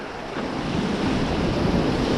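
Whitewater rapids rushing around a raft on the Ganges near Shivpuri, Rishikesh: a steady, loud roar of churning water close by, with no voices.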